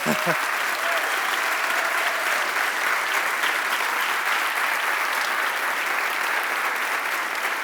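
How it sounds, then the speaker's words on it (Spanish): Dense, steady audience applause at a Spanish book presentation of Carla Antonelli's memoirs, a continuous wash of many hands clapping at even loudness throughout. "un aplauso para él también"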